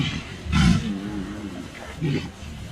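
Deep, loud grunts and rumbling bellows from walruses on Round Island, Alaska, two strong bursts with a low throaty groan between them.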